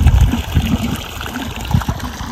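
Irrigation water flows onto a summer groundnut field in a steady, close low gush and trickle, with uneven surges throughout and no talking.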